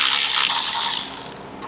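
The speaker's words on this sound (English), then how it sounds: "Grab our 12mm. Take out our two caliper bolts on each side." A 12mm ratchet loosens caliper bolts on a 2013 Honda CTX1300 motorcycle, giving a quick, close, fast run of metallic clicking that stops after about a second.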